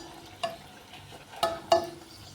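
Dough frying in hot oil gives a soft, steady sizzle with a few sharper pops and stirring clatters, close and fairly quiet, with no talk.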